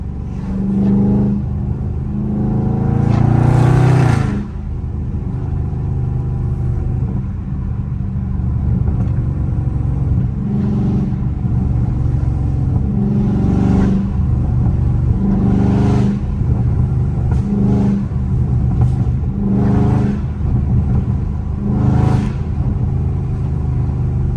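A Dodge Charger Scat Pack in track mode rumbles from inside the cabin, its engine droning low and steady with a loud revving surge early on and repeated swells of acceleration.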